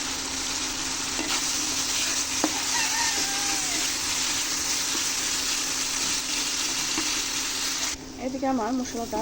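A spice paste sautés in a pan with a loud, continuous sizzle and frying hiss. Near the end the sizzle drops away and a voice speaks.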